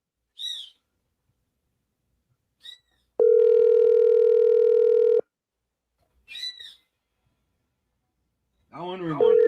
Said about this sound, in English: Phone not even supposed to be ringing 4 times.